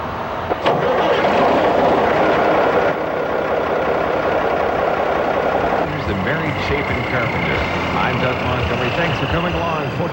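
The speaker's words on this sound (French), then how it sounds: "Les moteurs doivent être mis en route avant le lever du jour" Truck engines run before dawn as beekeepers prepare to move their hives, a steady loud rumbling drone under a voice, with a shift in the engine tone partway through and a faint whine later.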